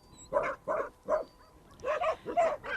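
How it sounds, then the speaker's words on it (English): Several dogs at a cattle droving camp bark in a close run of about six loud, sharp yaps, some overlapping near the end, with no talk. "I don't reckon as a stranger I'd like to walk into this camp with all these dogs. You only have to move around here and they go nuts."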